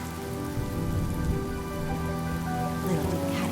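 Rain pouring steadily in a video game scene, a dense, even hiss of falling drops that holds at constant loudness throughout, with a low tonal drone of game music underneath.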